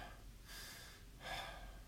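A man demonstrates shallow breathing with two quick, airy breaths, each a short gasping intake, close and clear in a quiet room.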